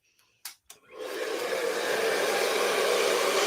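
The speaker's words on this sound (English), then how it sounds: "So I can come in with my blow dryer to start to set it into place." A handheld blow dryer roars on steadily after a few brief clicks and handling sounds, drying and setting sleek styled hair in a Bantu-inspired style. The airflow is close and constant, with no talking.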